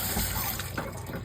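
Water splashes and runs steadily over a coticule hone stone during rinsing, a close, continuous wash with no talk.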